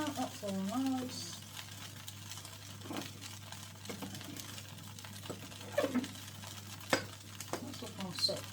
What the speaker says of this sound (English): Keep whisking it round.